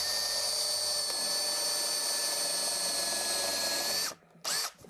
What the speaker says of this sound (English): I'm going to drive 2 screws in, one in the angle block here and one in the block I installed.